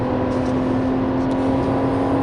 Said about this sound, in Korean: 고속주행 다시 가속할 때의 엔진 소리